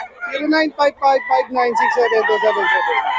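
Many chickens cluck and roosters crow loudly and close by, overlapping calls in quick succession forming a busy, continuous farmyard chorus.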